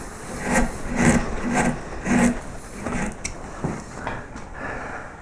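A wooden baseball cap being hand-carved, close-up rhythmic scraping and rasping strokes, about four firm strokes in a row followed by lighter, sparser cuts, with no voices.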